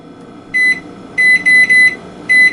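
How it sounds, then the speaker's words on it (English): A kitchen timer, set while muffin batter soaks, gives four separate bright electronic beeps, each short and loud, spaced unevenly over a quiet room background with no talking. "So let me get the timer set"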